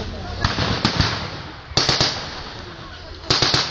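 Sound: German anti-tank gun firing in battle reenactment

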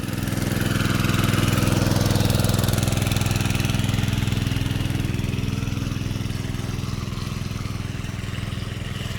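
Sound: water pump engine running

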